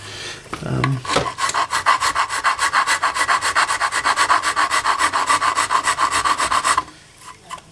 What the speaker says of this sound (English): the file is definitely a good tool and it's a save tool